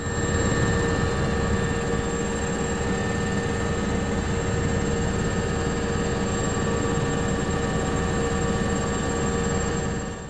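A helicopter in flight out of Incirlik, carrying a camera crew over earthquake wreckage in Hatay, gives a constant loud engine and rotor drone with a steady whine and no voices for ten seconds.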